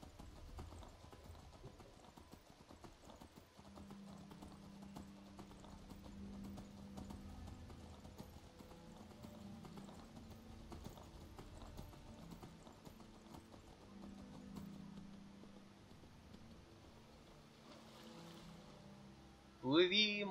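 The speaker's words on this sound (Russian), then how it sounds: "Плыви, мой конь, мой верный конь. Блин, прикольно. Коняка плавает." Horse hooves clip-clopping in Skyrim, a steady run of muted hoofbeats with low mechanical game ambience and a brief louder burst at the end; someone speaks during it.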